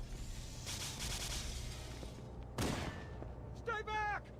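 Enemy gunfire in Halo: Combat Evolved, dense rattling bursts under a steady game background, followed by a loud blast and a whooshing, chirping energy sound near the end.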